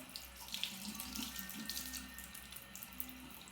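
A bathroom tap runs steadily into a sink while a face is quickly washed, the water close and continuous with small splashing variations.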